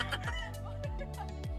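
Backyard chickens cluck and chortle faintly in a rural provincial home, several short calls spread over a quiet background.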